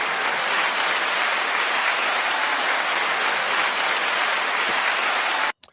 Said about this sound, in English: 9 out of 10. 9 second applause.